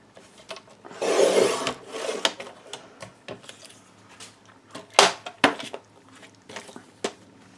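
Scrapes and soft slices of a paper trimmer cutting a sheet of A4 card along its long edge, one longer rasping pass followed by scattered clicks and taps, close and moderately loud with no talk.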